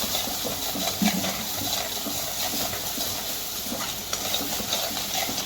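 Spices and curry leaves fry in hot oil in a pan for shev bhaji, giving a steady close sizzle with occasional stirring scrapes and no talk.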